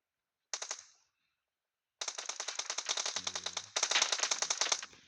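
Rapid automatic gunfire in a video game: one short burst, a pause, then long sustained rattling volleys that grow louder toward the end, with no speech.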